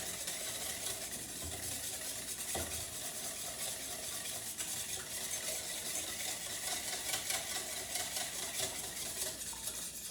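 Dessert batter of sugar and eggs being mixed in a bowl, a steady continuous whirring and scraping that runs unbroken throughout, fairly close and moderately loud, with no one speaking.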